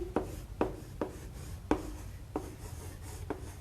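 Chalk or a marker moves across a classroom board in short scratchy strokes, six or seven distinct taps and scrapes in an uneven rhythm, close and moderately quiet, with no talking.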